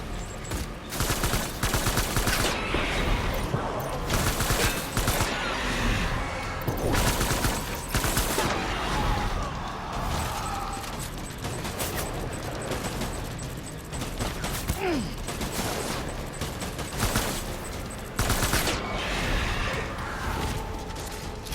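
Sustained heavy gunfire in the video game Death Stranding, dense bursts of automatic and rapid shots crackling almost without pause, loud and close, with a brief voice or two shouting under the barrage.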